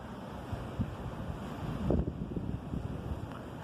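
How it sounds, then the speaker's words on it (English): Blizzard wind blowing snow near the Denver airport roars as a steady, buffeting rush across the microphone, with a stronger gust swelling around the middle. "Look at the blizzard blowing in."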